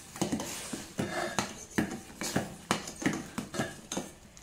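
A spoon scrapes and clinks rhythmically against a metal pot while rasam powder is stirred into simmering rasam, about eight steady knocks close by with no talking.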